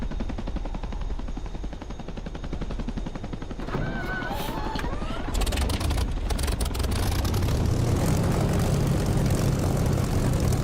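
In the DCS flight simulator game, a propeller aircraft engine runs at a steady buzzing idle, then throttles up into a louder, fuller roar with a brief clattering burst partway through, continuous and close, no speech.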